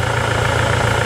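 A 2017 Toyota SW4 diesel engine idles, a steady, close, loud low rumble with an even mechanical pulse and no talk over it.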